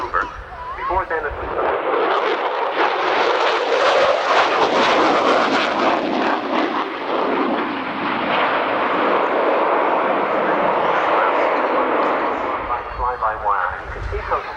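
An aircraft flies past at the Ulster Airshow in Newtownards, its broad roaring engine noise building loud and sustained before tapering off, with a commentator speaking over it.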